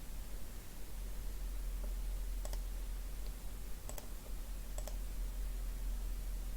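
A computer mouse clicks sharply a few times against a steady hiss of background noise, including a quick double click on a downloaded installer.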